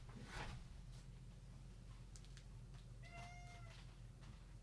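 A cat gives a clear, drawn-out meow, faint against a steady low indoor hum, with a few soft knocks before it.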